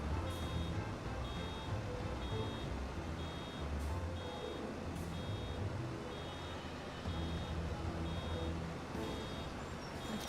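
Vehicle reversing beeps in the farming video game Farming Simulator 25, a faint repeating alarm running steadily through a continuous engine rumble for the whole stretch, with no voices.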